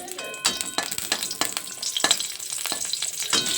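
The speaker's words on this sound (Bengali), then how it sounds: "ওই গরম তেলে আমি দিয়ে দিলাম চেরাই করা কাঁচা লঙ্কা" Slit green chilies frying in hot oil give a loud, continuous crackling sizzle, close by, broken by several spatula scrapes and clacks.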